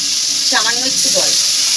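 Chicken sizzles loudly in a pan as a little water and vinegar go in, giving a close, bright hiss with brief bubbling bursts.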